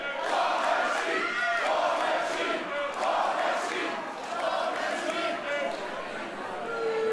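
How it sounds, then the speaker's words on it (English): A partisan wrestling crowd at a GWF Battlefield show chants loudly and continuously, rhythmic massed voices rising and falling across the whole stretch with no single speaker standing out. "Deafening chants for the War Machine"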